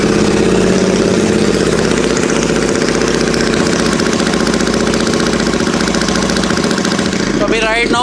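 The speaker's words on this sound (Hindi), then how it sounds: "तो अभी मैं आपको विदाउट एग्जॉस्ट भी एक बार साउंड सुना देता हूँ कि किस तरह की साउंड आती है जब हमारी बाइक में कोई भी एग्जॉस्ट नहीं लगा हो।" A Royal Enfield GT 650 motorcycle idles with no exhaust fitted, giving a loud, raw, steady thumping close by, and the engine note changes sharply near the end.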